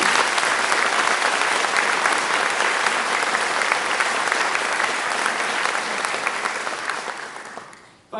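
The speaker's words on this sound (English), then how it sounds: "Can we give them a big round of applause, please?" Loud, sustained applause from the audience at a congressional debate, a thick, even roar of clapping that holds for several seconds before tapering off near the end.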